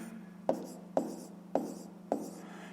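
Pen strokes writing a fraction on paper during a fifth-grade maths exercise, four crisp scratchy taps spaced about half a second apart over a low steady hum, close and fairly quiet.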